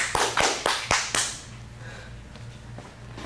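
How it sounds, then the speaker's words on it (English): Audience applause at a teen scene showcase at an acting studio, a short burst of about five sharp claps that fades after a second, leaving a quiet room hum. "Let's get a big round of applause."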